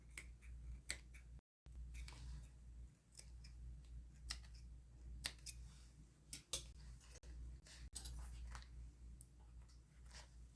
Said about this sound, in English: Just adding a couple tiny little snips